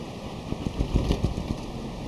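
A 1997 Nissan D21 diesel pickup engine idles with a steady low rumble, with a few slightly louder knocking pulses near the middle.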